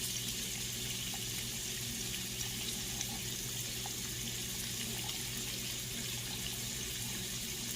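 Water runs steadily from a tap in a continuous, even hiss that stays unchanged from start to finish.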